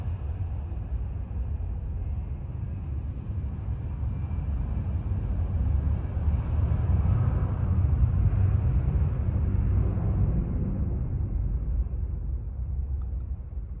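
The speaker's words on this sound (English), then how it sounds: "I'll wait for the plane, Tony." An airplane passing overhead, a steady low broadband roar that swells slightly in the middle and lingers throughout, heard alone without talk.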